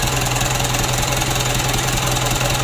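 A freshly rebuilt engine, overhauled five months earlier, runs steadily at a slightly raised idle after a throttle adjustment, with a loud, continuous close-up drone and a faint knock.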